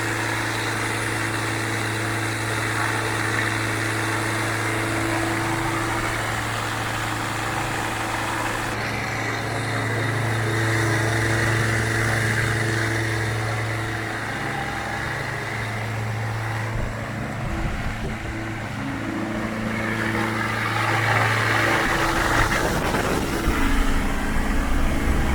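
A fuel-injected turbo Rotax engine idles on a RANS S-7S aircraft, a steady low drone with a mid-clip shift in pitch and a rougher surge near the end, and no voices.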